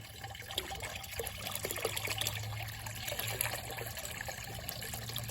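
Old antifreeze coolant trickles and splashes as it is dumped out of the removable coolant reservoir from a 12-valve Cummins engine, a steady close pour without speech.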